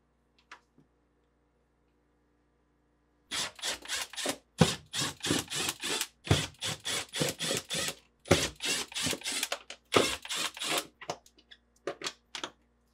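A 1/4-inch nut driver removes screws from the evaporator cover of a GE French door refrigerator, producing close, rapid clicking and grinding bursts separated by brief pauses against a quiet background.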